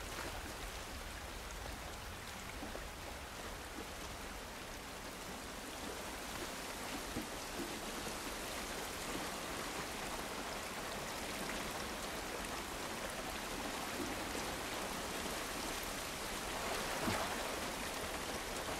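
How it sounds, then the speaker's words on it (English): Steady rain falls in the video game The Last of Us Part I, an even hiss of drops on surfaces that runs throughout at moderate level with no talk. "This rain ain't gonna do us any good."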